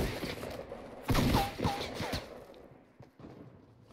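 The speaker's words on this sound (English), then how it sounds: "Someone's trying to shoot at me." Shots ring out in a Fortnite match, a burst of several sharp cracks in the middle followed by a few scattered pops, fairly close and mixed with game clatter.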